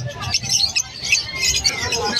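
Parakeets and lovebirds in cages at a pet market chirp and tweet in quick, overlapping bursts over a busy background murmur of nearby voices.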